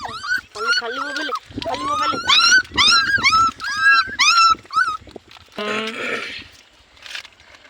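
A dog whimpers and yips in a run of high, bending cries while being fed biscuits in the morning, close and fairly loud, followed by a brief rougher bark-like burst near the end.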